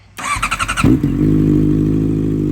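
A Honda CBR650F fitted with a full CR exhaust cranks with a rapid starter whir, catches, and settles into a loud, deep, steady idle close by.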